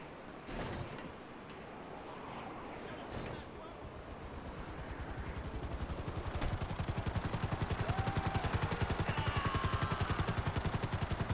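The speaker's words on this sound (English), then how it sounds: "So now I'm gonna get my chopper and take off." A helicopter takes off in the GTA Online video game, its rotor chop starting soft and quickening into a loud, steady rhythmic thumping over a background of game noise.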